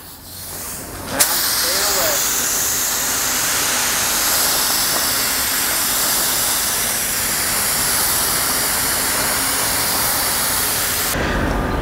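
A spray gun hisses steadily as it lays a finish coat onto a barn wood mantel, starting abruptly after a brief moment and running as a loud, continuous spray before cutting off near the end.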